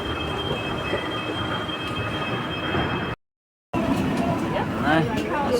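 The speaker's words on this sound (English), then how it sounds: "Here we go to the old metro lines, the M1 and M2." Metro train on the old M1 and M2 lines, a loud steady rumble of rail cars with wheel squeals and a high whine, heard from inside among crowd murmur and talking, with a brief dropout partway through.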